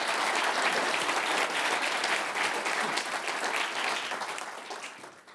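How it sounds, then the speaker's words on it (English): A round of audience applause at a Davos 2017 energy panel, steady and full for about four seconds before tapering off at the end. "Nice round of applause"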